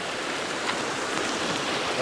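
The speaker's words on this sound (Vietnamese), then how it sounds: "bà con nơi đây chia sẻ là cái suối này cũng khá là dài" Steady broadband rush of a fairly long stream flowing at a river crossing site, continuous and moderately loud throughout with no breaks.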